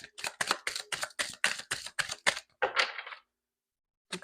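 Tarot cards being shuffled in a quick series of crisp riffling bursts, about nine in a row, ending in one longer ripple, then quiet.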